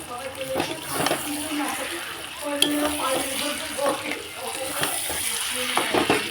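Mutton pieces dropped into hot spiced oil for mutton kosha, giving a steady close sizzle and fry with scraping stir clatter and brief clinks throughout.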